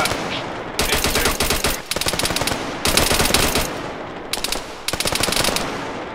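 Sustained machine gun fire from Arma 3 during a convoy ambush, loud and close, in several long rapid bursts separated by brief pauses.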